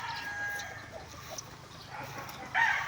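Chickens clucking with a rooster's crow rising at the end, set against steady low farmyard rumble.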